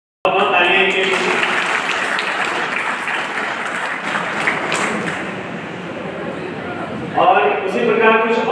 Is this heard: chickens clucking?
no